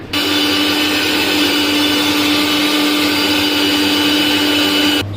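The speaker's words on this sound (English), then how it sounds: "So we have to grind our onion first." A kitchen blender grinds onion for a chicken do pyaza, a loud, steady motor whir that runs unbroken for about five seconds with no talking.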